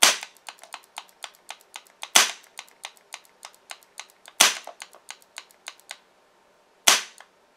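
A homemade HPA-powered SR-25 airsoft gun fires sharp single shots, four louder cracks spaced a couple of seconds apart with fainter rapid clicks between them, close and crisp with no talking.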